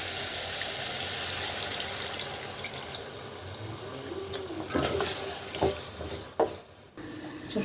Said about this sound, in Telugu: ఆల్రెడీ చింతపండు నీళ్ళు పోసాం కదా